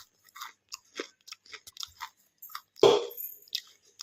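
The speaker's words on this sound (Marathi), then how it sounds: "तुकडा खाऊन दाखवते कसा कुरकुरीत झाल्या." Crisp bites and crunchy chewing of freshly fried onion bhaji (kanda bhaji, onion pakoda), close and clear, a series of short crunches with one louder bite near the end, no talking.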